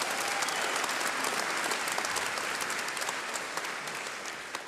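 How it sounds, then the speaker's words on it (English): A church congregation claps hands in a fast, continuous patter, moderately loud and fading slightly toward the end, with no speech over it. "let's give a hand clap"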